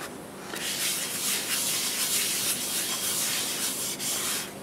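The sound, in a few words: polishing wood turning with Axe abrasive paste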